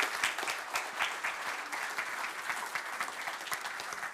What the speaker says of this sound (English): can we give them a very warm round of applause to come up to the stage, please, ladies and gentlemen?